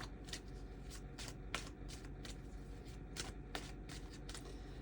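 A Hermetic tarot deck shuffled by hand, soft and close, in quick riffling bursts with small crisp taps and slaps in an irregular rhythm over a quiet room hum.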